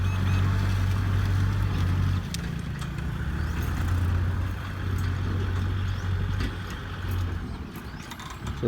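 A modified Kubota farm tractor's engine runs at a steady, unbroken low drone with a slight rumble, fairly close and alone without any talking.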